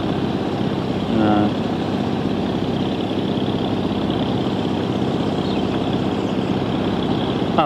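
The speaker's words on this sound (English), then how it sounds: "going to turn the pump off any minute" A pump engine runs steadily beside a gravel pit, a continuous low droning rumble that holds even throughout, with a brief faint squeal partway in and no clear speech.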